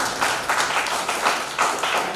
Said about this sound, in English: we once again thank you with big round of applause from our audience